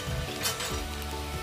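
Garlic and ginger paste sizzles steadily as it is lightly fried in a pan for banana chilly, with a faint clink of a utensil partway through.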